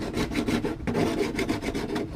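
A hand file rasps across the edge of a plastic R31 gauge cluster in quick, close, rhythmic strokes, each a scratchy burst with short gaps between, and no voices.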